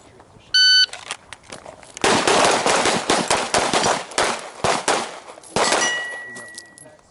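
Rapid pistol fire on an outdoor shooting range, a quick string of sharp, loud shots with metallic rings from struck steel targets, preceded by a brief electronic start beep.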